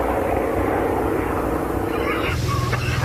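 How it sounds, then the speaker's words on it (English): A small airplane's propeller engine drones steadily in flight, a loud, constant roar from inside the cabin with a slight shift in tone near the end. "These planes practically fly themselves."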